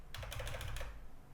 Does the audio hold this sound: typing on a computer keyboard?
yes